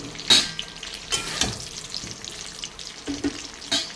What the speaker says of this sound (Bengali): পটল কটা আমি বেশ করে ভেজে নেব লাল করে